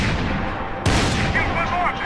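Gunfire in the shooter game Max Payne 3, a dense, loud burst of shots with a sharp crack about midway, then continuing close rattling and noisy game action.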